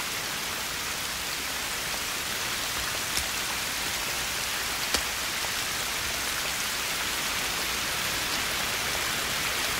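Heavy rain pours steadily and loudly, a dense continuous hiss filling the whole scene without pause, with no voices over it.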